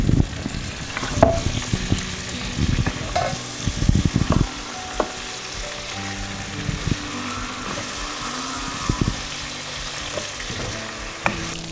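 Pieces of chicken fry in a pan for lemon chicken and get stirred and flipped, bringing a few heavy scraping knocks early on, then a softer steady sizzle with scattered clicks.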